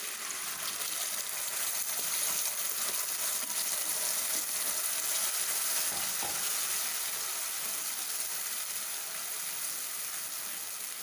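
Ground masala frying in ghee for chicken ghee roast gives a steady, loud, close sizzle that lasts throughout with no pauses, broad and hissing.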